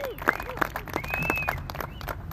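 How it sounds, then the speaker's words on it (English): Outdoor crowd at an Illinois State University homecoming-eve World Polio Day event applauding, scattered sharp claps mixed with cheers and whistle-like shouts, with voices mingling throughout. "How about a round of applause for that?"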